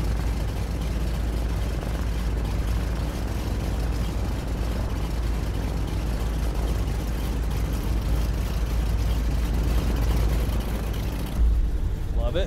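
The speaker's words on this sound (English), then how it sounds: "beautiful radial engine." Radial engine of a DHC-2 Beaver floatplane idling in Microsoft Flight Simulator, a steady, deep, rumbling drone that holds evenly throughout, with a brief disturbance near the end.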